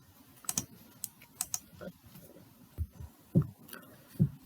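Someone types code on a computer keyboard, with scattered clicky keystrokes arriving in loose bursts and a few heavier thumps, close by and moderately quiet.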